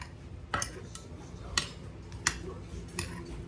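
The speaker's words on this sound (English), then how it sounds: "Now let's gently toss this around in there and mix our butter and onions and potatoes." Potatoes, onions and butter tossed in a pot, giving light metallic clinks and ticks of a utensil against the pot, about five sharp taps spaced irregularly over a low kitchen background.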